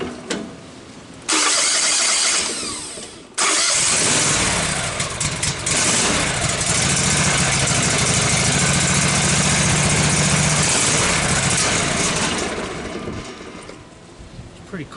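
A Wood-Mizer LT15 sawmill engine cranks, briefly stops, then starts and runs at a steady loud idle after an oil change, up close, with a short surge before winding down near the end.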